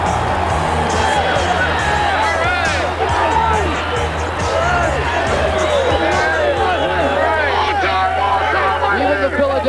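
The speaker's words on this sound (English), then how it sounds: "Philadelphia crowd giving a nice ovation to the winningest coach." A large Philadelphia stadium crowd gives the winningest coach a long, steady ovation, a dense roar of cheering and babble that holds throughout, with talk blending into the noise.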